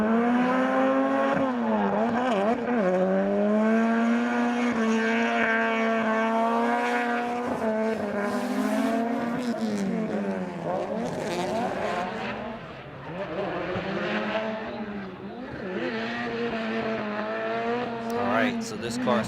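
A drift car with an SR engine at full throttle on Okayama International Circuit, its engine note rising and falling through sustained revving for nearly twenty seconds, loud and close, with a commentator talking over it.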